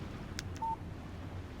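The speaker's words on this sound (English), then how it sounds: "Text message from Barry." A phone text message alert in the Alan Wake video game, a brief electronic tone with a couple of short blips just before it, clear over quiet ambient game noise.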